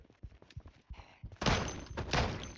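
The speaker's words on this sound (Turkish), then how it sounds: "Kapı kırılma sesi." In the video game Project Zomboid, a door is battered and broken down: a run of soft thuds, then two loud crashing bursts near the end, with no talk.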